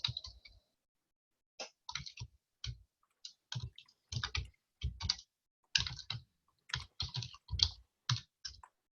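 A computer keyboard being typed on to enter a command produces close, fairly quiet keystrokes in irregular clustered bursts, separated by brief pauses.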